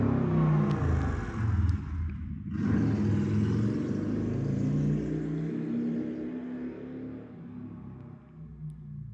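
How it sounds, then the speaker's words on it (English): A motorcycle engine passes by, a rumbling drone that builds and then slowly fades out over several seconds with no talking. "we just heard a sound, and I could say it's a motorcycle sound"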